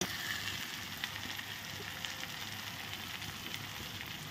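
Rohu fish rezala with cashews stirred in a pan, giving a steady, close sizzle and frying crackle that runs evenly throughout with no voices.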